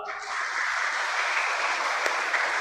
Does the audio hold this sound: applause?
yes